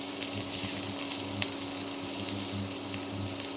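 Rice frying in fat while being stirred, giving a steady close sizzle and crackle with soft scraping of stirring throughout, and no voices.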